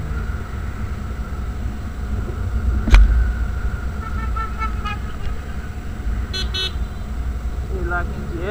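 One short, loud horn toot cuts through the steady road and engine rumble of a Yamaha XJ6 motorcycle fitted with a Jeskap exhaust, with people talking nearby.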